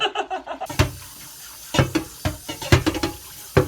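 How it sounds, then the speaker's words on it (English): Running water from a kitchen tap splashes into a sink while a pan is washed, with irregular bursts of clattering and sloshing against the metal at close range. "First we wash the Goodwill pan"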